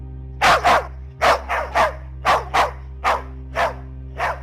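Two dogs guarding a narrow path beside a pier bark loudly and repeatedly, sharp irregular barks in quick bursts, close and agitated, with no talking.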